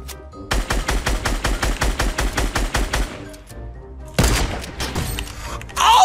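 Rapid drum-gun fire in Fortnite Battle Royale, a loud, near burst of about fifteen evenly spaced shots over roughly two and a half seconds, then a pause and a second, harsher crack with a rumbling tail, with no talk.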